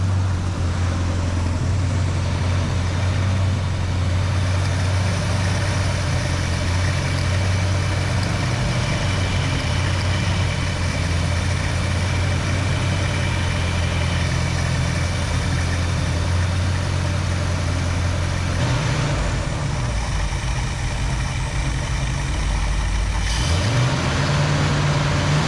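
A carbureted engine fitted with a freshly adjusted Edelbrock AVS2 carburetor idles steadily with a deep, even rumble. It holds the same note throughout, with a brief shift in tone near the end.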